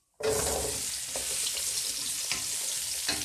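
Oil heating in a pan breaks into a steady sizzle that starts abruptly and holds loud and close, with a few faint clicks and stirring scrapes under it, no talk.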